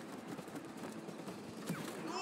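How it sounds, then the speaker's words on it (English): Rapid gunfire from the player's gun at the chain around the Wasp Queen's neck in the video game It Takes Two, a dense, sustained burst under a faint voice. "Yeah, yeah, shoot that chain."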